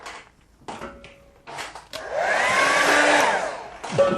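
A hair dryer blows over a freshly painted watercolour laid flat on plywood, a steady close whooshing rush running for about two seconds after a few brief knocks and handling sounds.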